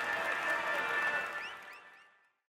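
Crowd applause for the podium in the Tour de France 2024 cycling game, a dense burst of clapping that swells briefly and then fades out, with a faint tone lingering over it.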